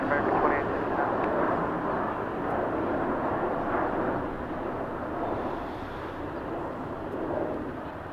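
An American Airlines jet taking off from runway 25 right at LAX, a broad continuous engine roar that swells and eases slightly, heard from a distance with radio chatter over it.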